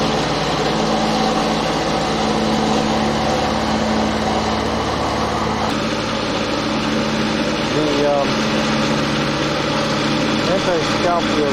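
A 2017 John Deere X750 lawn tractor engine runs steadily and loudly up close, a constant droning hum with a slight shift in tone midway.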